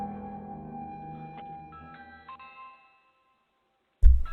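A ringing electronic doorbell chime sounds in a few tones that fade out, followed by a brief silence and then a sudden thump.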